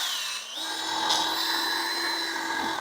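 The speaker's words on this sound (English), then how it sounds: "with our 1/2 inch paddle bit, we're going to go ahead and drill a hole for that lag bolt" A half-inch paddle bit bores a hole for a lag bolt into a wooden fence post, a loud, steady high-pitched whine of the power drill that dips briefly, then holds continuous and close.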